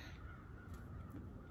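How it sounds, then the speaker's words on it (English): Hundreds of crows caw in the woods, a dense chorus of harsh calls layered over a loud, constant wash of background noise, with a few distinct caws standing out. "hundreds of crows calling in the middle of the woods"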